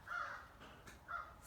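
Two cawing calls from a crow, each a drawn-out, slightly hoarse caw that sounds somewhat distant and faint over a quiet background.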